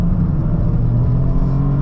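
A 2025 Toyota GR Corolla's engine revving hard and steadily at full throttle, a loud continuous drone with no pauses.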